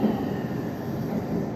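Train pulling into Himeji Station in Japan, a steady low rumble of railcars rolling along the track with faint wheel noise, heard alone without voices.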